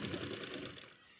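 Sewing machine stitching a garment, a fast, close, rattling run of stitches lasting about a second before trailing off.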